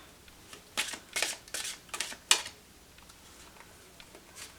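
Tarot and oracle cards, Arcanum Tarot, Energy Oracle and Angel Answer Oracle decks, shuffled by hand in a series of about five crisp riffling bursts over a second and a half, then quieter handling with faint rustles.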